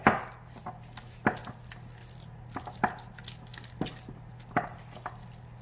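A spoon stirring a thick spinach and cream cheese filling in a bowl, giving irregular soft scrapes and knocks every second or so over a low steady hum, close and fairly quiet.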